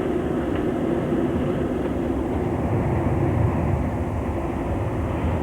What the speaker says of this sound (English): With afterburners glowing, Concorde accelerates down the runway.